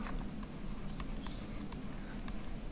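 Rapid scratchy writing strokes on a board as a word meaning is written out during an English lesson, continuous close scribbling over a steady background hum.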